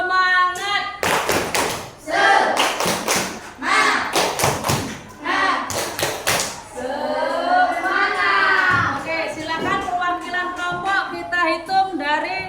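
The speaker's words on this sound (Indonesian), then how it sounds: "Kita kasih tepuk semangat." A class of students does a rhythmic spirit clap in a classroom, with bursts of loud, patterned hand claps and thumps alternating with children chanting and a teacher's voice.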